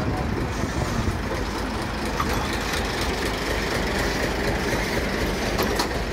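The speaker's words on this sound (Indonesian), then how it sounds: "Apakah lokomotif akan mengevakuasi lori yang terjatuh ke parit sebelah kanan ini?" Locomotive and rail equipment working to recover a derailed lorry that slid into a ditch beside the track, giving a steady, dense rumble of engine and rail noise throughout, loud and continuous with no clear pauses.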